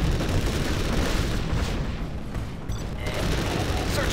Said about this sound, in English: Arming flashbangs